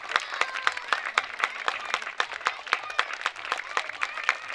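An audience claps steadily and continuously at a school annual day, a dense patter of many hands at moderate volume with no pauses.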